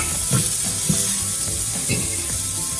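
Shrimp sizzle steadily in a hot wok as they are lifted out, a loud continuous frying hiss with a few soft scraping knocks of the utensil underneath.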